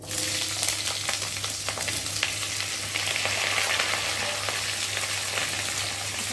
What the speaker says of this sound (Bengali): এখন এসে কেটে রাখা আলুগুলোকে দিয়ে ভালো করে একটু ভেজে নেব